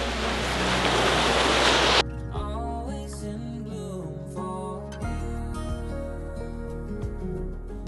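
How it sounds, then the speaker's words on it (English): Broad surf wash from a beach beside a coastal road on Vietnam's Hai Van Pass, steady and loud for about two seconds before it cuts away to other sound. "just reached a coastal road on my bike, and this is so cool. Look at the beach!"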